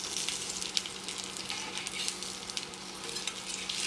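Black bean burgers frying in a pan, a dense steady sizzle with a few spatula taps as the patties are flipped, close and moderately quiet, with no speech.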